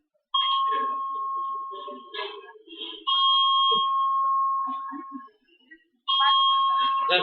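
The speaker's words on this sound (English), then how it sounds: "I decided to find out what was causing the alarm" Loud electronic alarm tone going off during a conference, steady sustained beeps in three long bursts with short pauses between, and people talking in the gaps.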